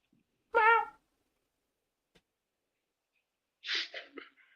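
A person vocally imitates a cat's meow, one short harmonic cry near the start, a brief click, then a couple of breathier meow-like syllables toward the end, close and fairly quiet.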